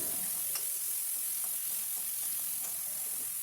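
Tomato mixture for pasta stirred in a pan over a medium flame, a constant soft sizzle with light scattered spoon taps and scrapes, no speech.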